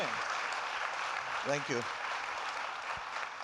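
An audience applauding at a climate action event, a steady wash of clapping under a brief spoken line.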